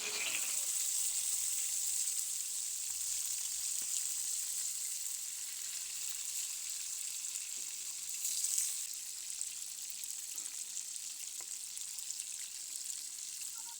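Large fish belly pieces fry in oil with a quiet, even hiss and occasional faint crackles, a steady sizzle heard at a moderate distance with no talk.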